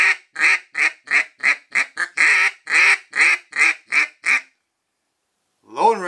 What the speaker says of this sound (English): you saw me making the duck call and this is what we got